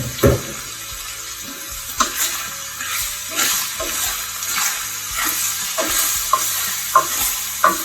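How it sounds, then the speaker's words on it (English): Chopped Vidalia onions fry in a pan with a steady sizzle while a utensil stirs and scrapes them, with repeated clinks and knocks against the pan and no talk. "Just let those onions cook down just a little bit, become a little bit translucent and soften up."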